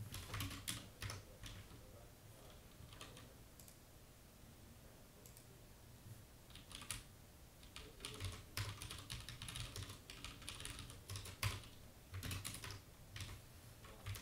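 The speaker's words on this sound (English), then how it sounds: "These are actually brown ones, and it's a DAS keyboard." Typing on a DAS mechanical keyboard with brown switches: soft, irregular bursts of key clicks and clacks come in quick flurries and short pauses, close up, with no voice over them.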